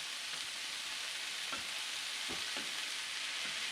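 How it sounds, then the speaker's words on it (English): Ground venison browning in a pan with onion powder, black pepper and white pepper, a faint steady sizzle with a few soft spoon scrapes, no talking. "So we're not quite there yet as far as browning all of this."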